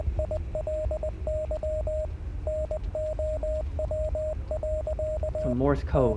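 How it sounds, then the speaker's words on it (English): Morse code signal in the video game Hell Is Us: a steady mid-pitched beeping of short and long tones in a clipped dot-dash rhythm over a low hum, ending with a brief warbling sweep. "Some Morse code."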